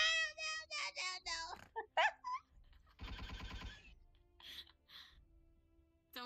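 A short burst of rapid video game machine-gun fire rattles between high, squeaky voices, which come in clipped bursts before and after.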